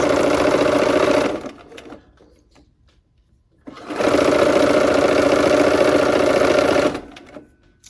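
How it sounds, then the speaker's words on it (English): A sewing machine sews seams in two loud, close runs of steady motor whir and needle chatter, separated by a couple of seconds of near silence. "here we are at the machine. We're gonna go ahead and sew those seams"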